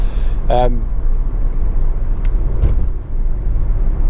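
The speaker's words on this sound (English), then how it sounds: "So I just close the window slightly, get a bit of wind rustle." Steady broadband wind rush fills the cabin of a ten-year-old Honda Civic 2.2 i-DTEC ES diesel hatchback driving with a window slightly open, under a constant low road drone, with a brief vocal sound near the start.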